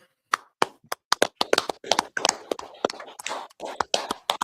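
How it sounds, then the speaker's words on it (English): A small group clapping on cue at a gathering, starting with a few isolated sharp claps that build into irregular, overlapping clapping from several hands close by, loud and dry with near silence between the early claps. "All right, clap it up."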